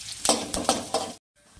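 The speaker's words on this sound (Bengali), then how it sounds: "আমি ওই তেলের মধ্যেই ফোড়ন করে নিচ্ছি গোটা এলাচ, তেজপাতা," Whole cardamom, bay leaf and cumin sizzle in hot oil, with rhythmic stirring scrapes roughly every quarter second over a steady frying crackle, then a brief pause.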